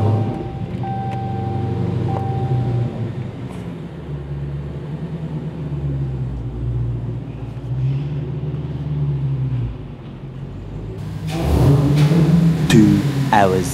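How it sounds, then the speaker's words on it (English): A Dodge Challenger Hellcat Jailbreak Last Call engine rumbles in a deep, steady drone with gentle swells and some wind noise. Near the end it rises into a louder, rougher rev. "I have never tried to rev her like this without actually moving the vehicle forward"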